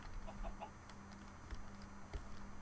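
A chicken in a modded blocky video game clucks a few soft, short times, faint against a quiet background hum.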